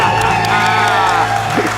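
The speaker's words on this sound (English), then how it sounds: "Let's hear a debt-free scream." Loud, sustained celebratory scream at a live debt-free celebration event, a single drawn-out shout carried over crowd noise for under two seconds.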